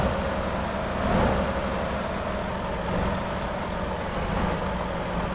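A truck engine idles steadily in American Truck Simulator, a low continuous rumble at moderate level with no talk over it.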